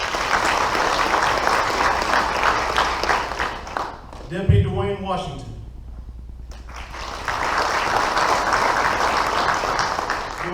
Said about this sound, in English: Ladies and gentlemen, round of applause for this gentleman.